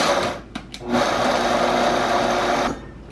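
Food processor pulsing oats into flour: a couple of brief whirring blips, then a sustained loud motor whir with rattling oats that cuts off near the end, with no talk heard.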